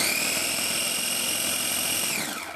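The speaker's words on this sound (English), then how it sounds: "what chop and puree sounds like when you press down on this little handle right here" A KitchenAid KFC0516BM food processor's small electric motor whirs steadily at high speed on chop for a couple of seconds, then winds down as it stops.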